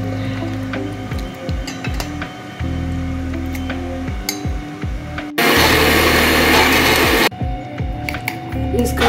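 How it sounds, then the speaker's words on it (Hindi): A mixer grinder grinding soaked tamarind kicks in with a loud, steady whirring roar for a few seconds, then cuts off, with some clattering and handling noise before and after. "एक घंटा भिगोई हुई इमली को हम अब मिक्सी के जार में डालकर मिक्स करके पीस"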